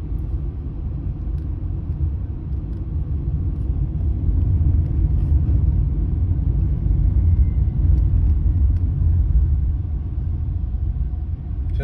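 Tata Nexon EV electric car cruising along an open road, a steady low road rumble and tyre hum with a slight swell midway, heard from inside the cabin with no talking.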